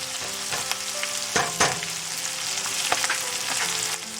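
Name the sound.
onions frying in a pan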